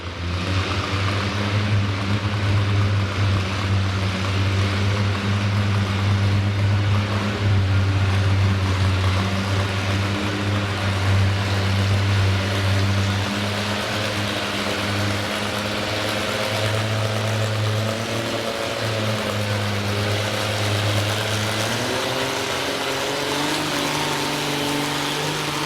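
A classic green tractor roars through a full pull at a tractor bracket pull, its loud, steady engine drone holding throughout and shifting slightly in pitch near the end.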